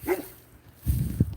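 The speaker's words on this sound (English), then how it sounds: "She loves barking at me more than barking at strangers." A dog at home gives a short, low bark at the start, then a couple of deeper gruff woofs close to the microphone, brief and fairly loud.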